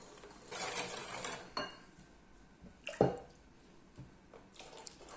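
Hot milk is stirred into a pastry cream mixture for a homemade strawberry tart, with soft wet squishing and sloshing, a couple of light clinks of a utensil against the bowl, and one sharper tap, all faint and close.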